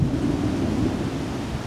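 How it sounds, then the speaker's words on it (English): Thunder rolls on a cloudy day in Oklahoma, a low, continuous rumble that sounds distant and steady, with some wind noise on the microphone and no voices. "do you hear that thunder?"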